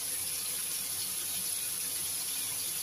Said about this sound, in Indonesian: Tambahkan sedikit air.